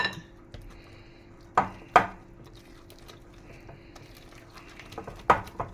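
Banana bread batter with sour cream being mixed by hand in a bowl, with soft continuous stirring and scraping punctuated by a few sharp clinks of utensil against the bowl, close and without talk.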